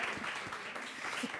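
Brief, fairly quiet applause from a small group after a business pitch on a Brussels export-themed program, a short burst of soft clapping.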